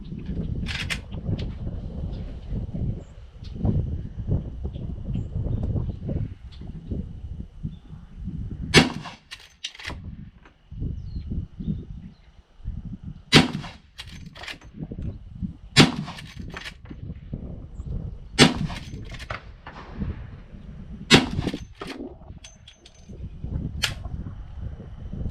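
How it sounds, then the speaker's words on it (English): Henry Model X lever-action rifle firing low-recoil .44 Special rounds, several sharp shots spaced a few seconds apart over a rumbling background, each crack ringing briefly. "I have never shot 44 special through a rifle before."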